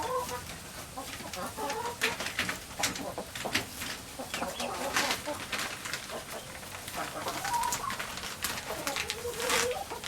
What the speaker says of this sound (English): So while we're with the chickens down here